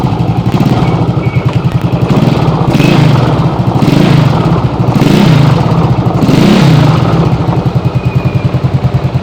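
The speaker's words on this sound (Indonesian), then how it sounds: "Mesinnya halus, terus suara knalpotnya juga nggak jauh dari standar" Yamaha Mio Sporty scooter engine idling with a KTC Kytaco exhaust, loud close putter with rhythmic pulsing and a few gentle throttle swells, alone without talk.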